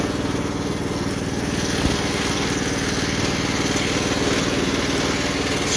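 Craftsman lawn tractor engine running steadily in forward gear, a loud, close, continuous mower-type drone with a slight pulsing flutter and no talk.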